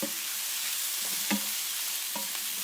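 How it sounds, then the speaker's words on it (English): Sausage sizzles steadily as it fries in a pan, with a few soft scrapes and knocks of stirring over the constant hiss. "I am just going to stir that around, and we just want to heat that sausage through."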